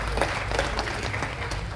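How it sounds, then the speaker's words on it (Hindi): Audience applause at an indoor business conclave partners' meeting in a hall: dense, steady clapping from a large crowd, sustained and fairly loud throughout with no talk over it. "जिगर भाई के लिए एक बार ताली बजाएंगे"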